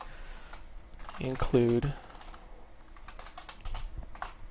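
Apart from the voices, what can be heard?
typing on a computer keyboard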